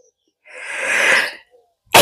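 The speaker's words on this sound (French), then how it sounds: "Je vais commencer à éternuer." A single sneeze bursts out close and loud, a breathy rush lasting about a second, followed by silence and then a sudden sharp noise at the end.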